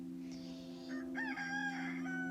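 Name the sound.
roosters crowing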